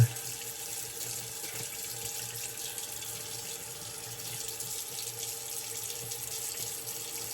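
A tap runs steadily into a sink to wet an alum block during a barbershop shave, a quiet, even stream of water with no talking.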